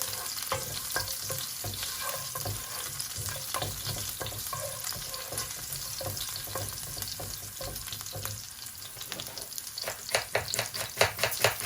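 Garlic and sliced green chillies frying in a pan, a constant crackling sizzle with frequent scraping stirs that grow louder and quicker toward the end, close up with no speech.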